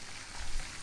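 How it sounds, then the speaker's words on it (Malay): Chicken frying in a pan for nasi ayam, a dense continuous sizzle and crackle of hot oil, steady and close throughout with no voices. "Kan saya tengah goreng ayam dia."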